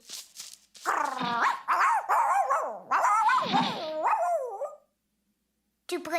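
A cartoon dog barks and yips in an animated children's show, giving a run of loud, close, expressive barks and whimpery yelps with shifting pitch, then a short pause before another bark starts at the end.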